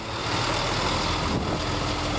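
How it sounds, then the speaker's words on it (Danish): Truck tractor unit uncoupled from a special expandable exhibition trailer and driven away, a steady broadband engine rumble with a brief swell partway through. "Trækkeren kobles af og køres væk."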